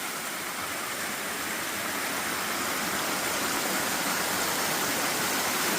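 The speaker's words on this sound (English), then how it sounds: "but this is actually a waterfall." A forest waterfall roars steadily as a dense, unbroken rush of falling water, loud and close, with no voices.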